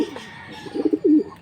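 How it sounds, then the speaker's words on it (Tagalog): Pigeons kept as pets coo softly in a few short, throaty bursts nearby, growing a little louder toward the end, with no talk over them. "Mga kalapati."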